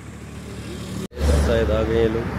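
Road traffic stuck in a kilometre-long jam, with a steady rumble of cars, trucks and motorcycle engines close by, heard under someone talking, briefly cut out and then louder.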